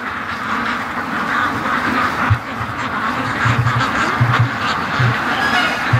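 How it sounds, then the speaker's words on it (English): Ducks quack in a yard in repeated short bursts, close and clear over a steady outdoor background hiss, with no talking. "the duckies are in the yard"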